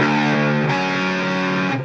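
A distorted electric guitar sustains a thick chord from an intro, loud and continuous with a brief re-strike partway through, with no voice.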